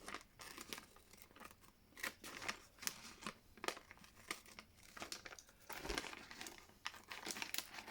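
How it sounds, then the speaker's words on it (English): Scissors snip and crinkle through stitched embroidery fabric to cut out leaves, a close run of repeated sharp cuts and rustles with no talk. "So if I now cut off my leaves, so I'll cut this out."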